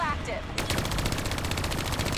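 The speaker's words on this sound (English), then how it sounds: "They're shooting at me with shotguns from this range, really?" Rapid gunfire in Call of Duty: Black Ops III, a continuous fast rattle of repeated shots starting abruptly and running loud and close until the end, with battle noise underneath.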